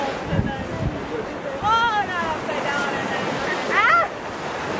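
Wind gusts across the microphone at Point Beach during a lantern launch, a steady rushing roar with surf-like swells, while people talk nearby over the top.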